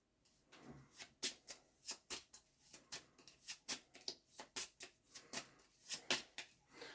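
A deck of intruder attack cards from the Nemesis board game is shuffled by hand: a quick run of crisp, close riffles and card slaps in an uneven rhythm, with no talking.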